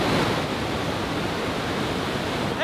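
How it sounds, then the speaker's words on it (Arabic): Spring water flows from inside a mountain cave in Lebanon, a loud, dense, unbroken rushing roar that fills the space evenly, with no voices. "وهيك يكون وصلنا داخل المغارة، المكان اللي تنبع منه المي"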